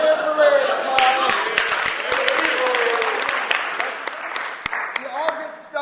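Audience at a TOCA event applauds and cheers a smile contest, with scattered sharp claps, whoops and voices mixed through a sustained crowd roar.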